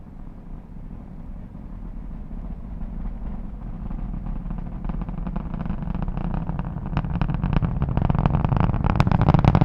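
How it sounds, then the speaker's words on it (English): SpaceX Falcon 9 rocket's nine Merlin engines roaring during climb after liftoff, a deep rumbling broadband roar that swells steadily louder with crackling bursts, distant and continuous without talk. "Let's listen to the roar of those 9 Merlin engines."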